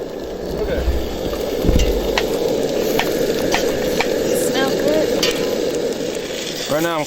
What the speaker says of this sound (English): Right now I'm kind of moving the onions out of the way to give the meat a chance to cook